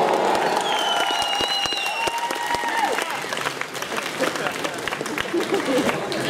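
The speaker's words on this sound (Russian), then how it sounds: "Аплодисменты!" An audience at a breaking battle event applauds a breakdancer, steady crowd clapping with scattered cheers and voices, while a few sharp louder claps stand out close by.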